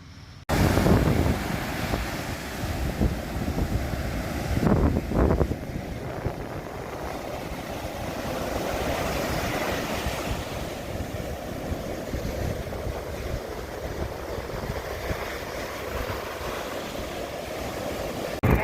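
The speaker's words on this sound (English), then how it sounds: "it's a little cold and windy" Cold wind blowing outdoors by the ocean, a constant close buffeting rush against the microphone with gusts and a faint wash of surf underneath, no voices.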